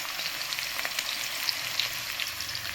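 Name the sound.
oil bubbling, frying potatoes in an electric wok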